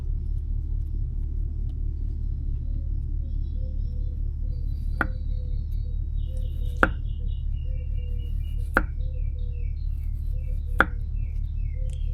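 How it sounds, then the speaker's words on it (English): A knife cuts radish into thin slices on a board, four or five sharp sparse chops spaced a second or two apart, heard over a loud steady low outdoor rumble. "Now I have radish, so same thing, nice thin slices."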